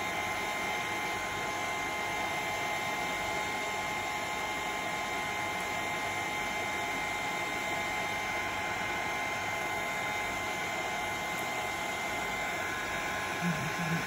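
Heat gun blowing on thick texture paste during a mixed media craft project, a steady continuous whooshing fan hiss that runs unbroken at moderate volume.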